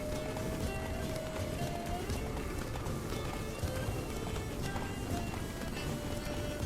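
Horse galloping in The Witcher 3 video game, a steady, continuous run of hoofbeats that stays loud and dense throughout, with game music and effects blended underneath.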